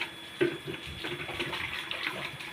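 Water poured in a steady, gushing stream at close range, with a small splash near the start, in a home kitchen.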